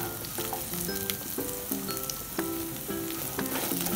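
Onions with garlic, ginger and green chili fry in a kadai with a continuous close sizzle, while a spatula scrapes and taps against the metal in a repeated stirring rhythm.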